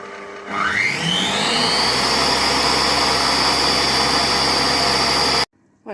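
A Compact Cook Pro multicooker motor stirring beef meatballs in tomato sauce spins up with a rising whine, settles into a steady loud hum and then cuts off abruptly.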